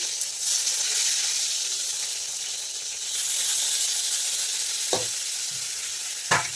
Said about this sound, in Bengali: এখানে কাঁকড় ভাজা হচ্ছে পটল ভাজা আর কুমড়ো ভাজা